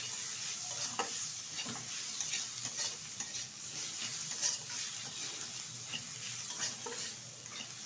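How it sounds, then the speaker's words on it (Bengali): Potatoes with chopped tomato skins and spices are stirred in a pan, making a faint, steady sizzle with soft, irregular scraping strokes throughout. "সবগুলো উপকরণ কিন্তু ভালোভাবে আলুর সাথে নেড়ে ফেড়ে নিয়েছি"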